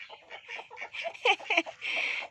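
Several chickens clucking in quick, irregular bursts, close by and lively, with no talking.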